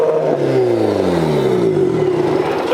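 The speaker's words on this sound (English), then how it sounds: "That shit's revving up all the way up high." A Nissan 180SX engine with a fresh exhaust weld and a suspected vacuum leak revs and then falls, the loud, close drone gliding steadily downward in pitch with no voices.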